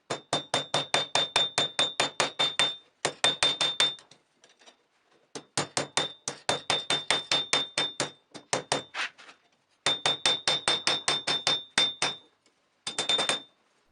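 Hot steel knife tang is hammered on an anvil during forging, sharp ringing metallic blows in fast regular bursts of about a dozen strikes each, separated by short pauses, loud and close.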